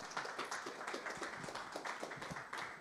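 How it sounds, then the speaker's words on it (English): Steady crowd applause with dense overlapping claps, sustained at an even level throughout, heard from a moderate distance in a room. "Let's give him a round of applause."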